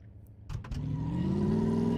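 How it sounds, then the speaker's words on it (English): In the video game Car Mechanic Simulator 2015, a few clicks and clunks, then a car engine starts and rises into a steady revving drone that grows slightly louder. "Listen to that engine."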